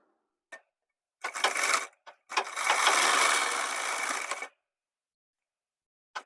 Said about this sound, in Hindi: तो इस तरह से मैंने सिलाई लगा ली है